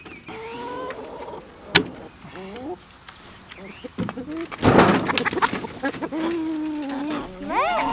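Chickens let out of their coop cluck and squawk in rising, wavering calls, near and fairly loud, with people talking intermittently among them.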